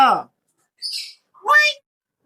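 A pet myna bird mimicking human speech gives three short, close, voice-like squawks separated by brief silences, the last one the loudest.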